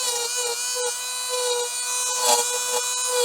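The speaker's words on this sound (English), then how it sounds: "So we've got a Dremel tool here that we're going to use to make these little pockets" A Dremel rotary tool whines at a steady high pitch while cutting small keyway pockets, close up and constant, with brief dips as the bit catches.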